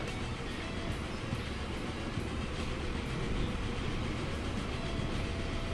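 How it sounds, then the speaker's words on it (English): A train runs along the track in the Transport Fever 2 video game, a steady dense rumble with faint regular clickety-clack beats continuing throughout, with no voices over it. "After our train gets down here."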